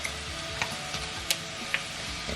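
A spoon stirs fish curry made with cod in a pan just after a stock cube goes in, producing a steady low sizzle and bubbling broken by a few light clicks of utensil on the pan, with no voices.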